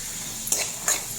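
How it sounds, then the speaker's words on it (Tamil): Corn kernels sauté in a pan for soup, a soft steady sizzle broken by two quick scraping stirs of a spoon against the pan. "கார்ன் போட்டு ஒரு 5 மினிட்ஸ் நல்லா வந்து வதக்கிக்கோங்க."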